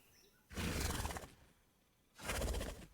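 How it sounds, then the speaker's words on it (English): A game creature's friendly call: two short, gentle, horse-like snorts, each about a second long with a breathy rasp, close and clear against quiet background. "Friendly call. This is a short, gentle snort."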